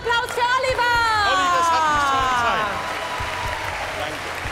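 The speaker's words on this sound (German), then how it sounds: "großen Applaus" Studio audience applause at an outdoor TV game show with a prize wheel, a dense wash of clapping running throughout, loud at first and easing slightly, with a voice speaking over it.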